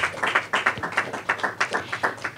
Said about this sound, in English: how about a round of applause for all three ladies as I bring them back up?